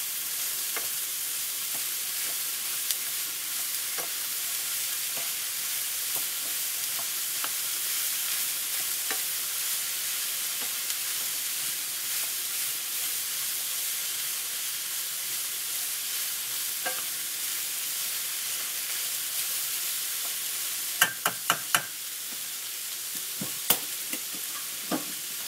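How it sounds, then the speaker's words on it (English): Frozen vegetables from a one-pound bag sizzling steadily in a hot pan for shepherd's pie, a continuous broadband fry with occasional stirring scrapes and a few sharp clinks near the end, no talking. "1 pound bag of frozen vegetables. I'm going to go ahead and add that right in there."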